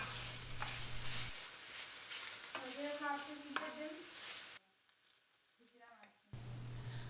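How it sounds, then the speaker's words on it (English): Chicken pieces with red and green peppers sauté in a pan, giving a steady close sizzle with stirring scrapes that briefly drops away near the end before returning. "I sauteed the chickens until they are colored in all sides"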